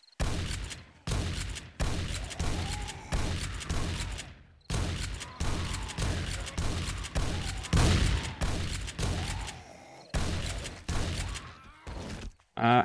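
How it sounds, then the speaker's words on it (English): Coil gun firing in the 7 Days to Die Darkness Falls video game, a rapid series of loud repeated shots in bursts separated by short pauses. "We're gonna have to go with the normal, the coil gun."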